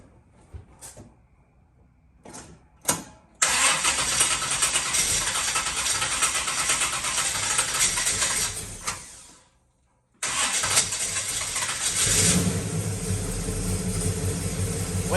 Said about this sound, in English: time to fire it up after we swap out the push rods